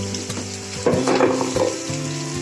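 Ridge gourd fries in a pan with a soft steady sizzle, and a brief burst of scraping and stirring rises midway before settling back, over a low electrical hum.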